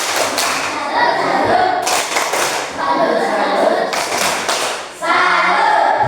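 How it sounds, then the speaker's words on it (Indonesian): Classroom students clapping in a rhythmic salute pattern, loud bursts of hand claps with thumps, pausing and resuming, with children's voices mixed in. "Kita memberikan tepuk salut untuk yang bertanya dan kelompok yang mempresentasikan hasil diskusi."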